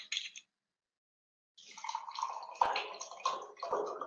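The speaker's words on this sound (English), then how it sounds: "So I have to take some water." Water is poured and then drunk, with a brief trickle, a pause, and then gulps and small clinks close up in a quiet room.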